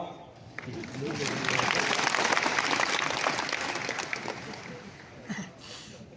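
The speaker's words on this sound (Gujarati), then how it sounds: "એટલે તમારા માટે તો સરખી તાળી પાડો." A large hall audience at a Gandhinagar felicitation for newly elected sarpanches and panchayat members bursts into sustained, dense applause that peaks and then thins out, with a voice speaking over it.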